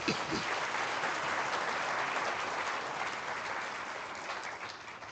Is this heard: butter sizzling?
no